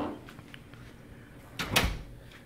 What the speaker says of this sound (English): which will open the front door.